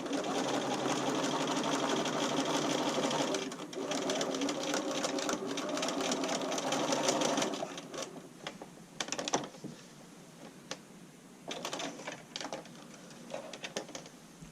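A home sewing machine runs steady stitches through fabric for a garment, a dense whirring rattle that drops into shorter, quieter bursts of stitching toward the end, heard up close with no talk.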